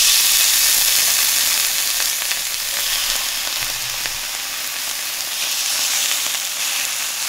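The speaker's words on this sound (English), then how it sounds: "because I'm using a cast iron pan, it holds so much heat that I can still heat up the ham without having to turn on the heat" A thick slice of ham heats in a hot cast iron pan with the burner off. It gives a loud, close, steady sizzle that hisses without a break and has no voice over it.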